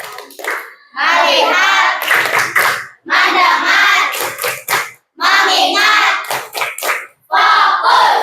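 Children in an elementary classroom chant the rhythmic 'tepuk fokus' clapping routine, with bursts of group voices punctuated by sharp sets of hand claps, loud and close.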